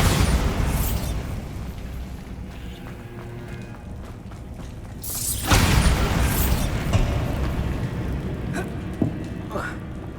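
A Bombarda spell detonates in Hogwarts Legacy with a sudden booming blast partway through, its rumbling debris and crackle trailing off over continuous game ambience.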